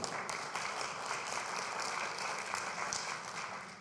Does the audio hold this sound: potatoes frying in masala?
no